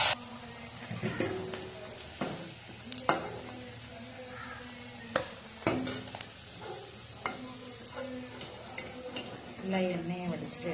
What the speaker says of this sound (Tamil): இப்படியே எல்லாத்தையும் கொஞ்சம் கொஞ்சமாக சேர்த்து பொரிச்சு எடுத்துக்கலாம்.